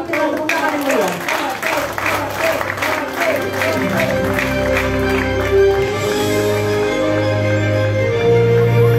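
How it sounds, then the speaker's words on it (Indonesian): Crowd applause and cheering at an Indonesian political rally declaring support for Ganjar, with loud continuous clapping mixed with music and voices throughout. "Kita sambut dengan tepuk tangan yang meriah."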